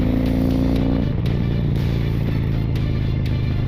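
A Harley-Davidson Street Glide motorcycle engine roars loud and close, its deep throbbing note shifting as it accelerates, with a constant rumble throughout.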